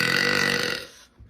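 A girl lets out one long, loud, close burp lasting about a second, with no talk over it.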